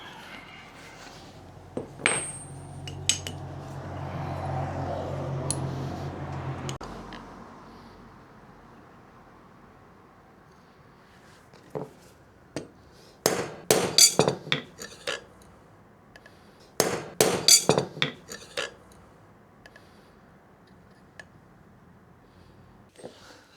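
Sharp metallic strikes ring out in two quick clusters after a stretch of low rumbling and clatter, a punch being hammered into metal.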